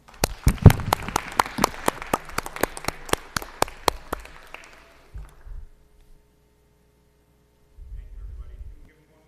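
A small audience at a Marlboro Township school board meeting claps, the individual claps distinct and fairly close, fading out after a few seconds, followed by quiet room noise and brief low rumbles.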